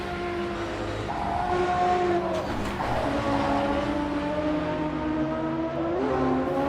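A naturally aspirated 2-litre straight-six race car engine in a historic Le Mans racing game, its high revs holding loud and steady with rising and falling harmonic tones as it shifts through gears, and no voices over it.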